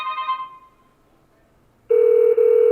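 An Evercross DS01 desk phone places a call, with a brief tone fading out and then, after a short silence, a loud steady call tone starting abruptly, broken by one tiny gap.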